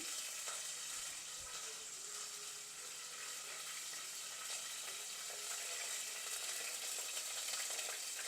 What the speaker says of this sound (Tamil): ஒரு சேர்க்கண்டி அளவு வெந்தயம் சேர்க்குறோம் வெந்தயம் நல்லா பொரியட்டும்